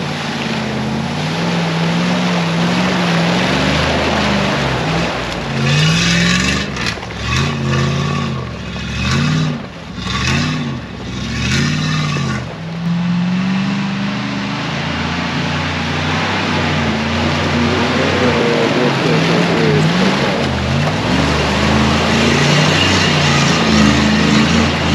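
Off-road truck "Lesorub" with a 7.4 L V8 engine driving, a loud continuous engine roar that rises and falls with the throttle under heavy rumbling road noise.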